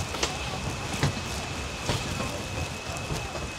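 Heavy rain falls steadily on a mountain trail in Taiwan, a dense, constant hiss with a few louder spatters, while voices talk over it.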